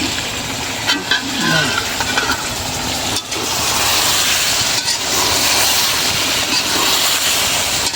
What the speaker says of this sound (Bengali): মাংসটা আগে ভুনা করে নিই